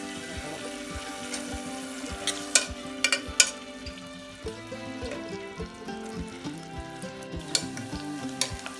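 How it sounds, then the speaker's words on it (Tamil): Onions hit hot ghee in a pressure cooker and fry with a steady crackling sizzle, broken by a few sharp pops and some scraping stirs, with no talking. "நெய் காஞ்சோன்னா வெங்காயத்தை அதில் போட்டு"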